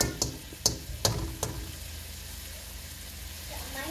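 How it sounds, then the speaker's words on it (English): Tomato paste is stirred into a pot of Creole sausage and okra: four crisp spoon clinks against the pot in quick succession, then a soft, steady cooking hiss. "we are going to put us some tomato paste into our pot also."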